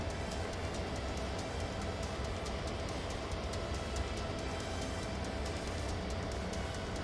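Train rolling on rails in a video game, a loud, steady rumble with rapid rhythmic clacking running the whole time, alone without talk.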